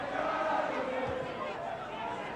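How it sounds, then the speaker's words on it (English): Swansea home crowd at a Wales v Iceland football match, a steady dense roar of voices filling the stadium, loud and continuous throughout with no single shout standing out. "The Swansea crowd really making their presence felt here"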